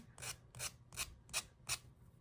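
A wooden earring is filed by hand in five short, evenly spaced rasping strokes, close and faint, with no talking.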